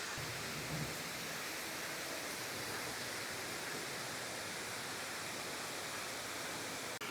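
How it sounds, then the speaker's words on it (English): A constant, hissing roar of a waterfall on the Monk's Trail in the mountains of Chiang Mai, broad and unchanging, quite faint and steady without any pauses. "now this is a waterfall"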